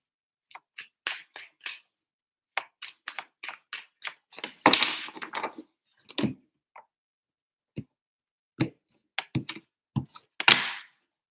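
Tarot cards shuffled by hand in short separate bursts, crisp riffling flutters and soft taps with quiet gaps between, close and alone.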